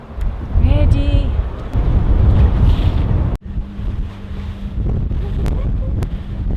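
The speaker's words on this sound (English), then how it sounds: "We got our own little speedboat." A small speedboat gets under way with wind buffeting the microphone and the engine droning underneath, while people talk and call out over the rush.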